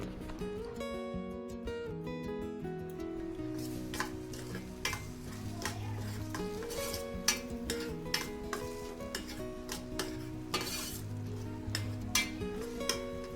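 Mixed vegetables with coriander powder, chicken masala, pepper and salt are sautéed in a pan, with a spatula scraping and clicking at an uneven pace under a low sizzle, set against steady background music.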